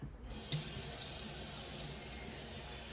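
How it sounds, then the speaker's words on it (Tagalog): Tap water pours into a large stock pot for a vegetable and fish soup, a steady bright gush that starts abruptly after a brief pause and runs on close and clear. "Tapos, lagyan natin ng tubig."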